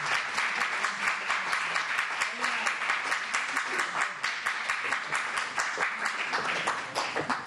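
An audience at a poetry evening gives sustained applause for Devika: dense, even clapping from many hands that stays loud and steady throughout.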